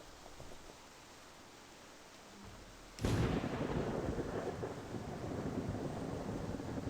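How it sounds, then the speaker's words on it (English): A sudden loud thunderclap cracks out of quiet rain partway through a thunderstorm in a wolf video game, then a sustained rolling rumble and heavy rain noise continue to the end. "it really looks a thunderstorm here"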